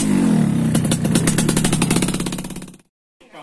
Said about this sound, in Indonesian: jadi gimana bunyinya knalpot JKJ, bro?